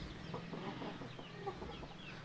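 Aseel chickens on a breeding farm cluck softly nearby, several birds murmuring over a steady low background din.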